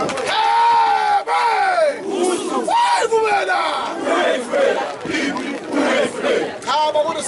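A large crowd at a Zulu wedding roars and cheers loudly and continuously, with rising and falling shouts and whoops.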